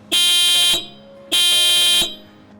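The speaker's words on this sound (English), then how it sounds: "it is the performance of the horn." Two loud, harsh blasts from a stock Mercedes Sprinter van horn, each under a second long, separated by a short pause and heard up close.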